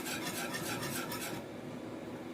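Flour batter for savory crêpes being whisked in a bowl, producing rapid rhythmic scraping strokes up close that stop partway through, leaving quieter room noise.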